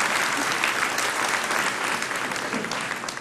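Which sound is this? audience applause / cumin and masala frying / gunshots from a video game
audience applause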